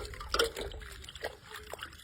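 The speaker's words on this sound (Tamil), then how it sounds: "இது என்ன பண்ணணும்னா தண்ணியில அலசணும்." A rubbed white cloth is rinsed in water, giving close, soft sloshing and dribbling splashes in short irregular bursts, fairly quiet.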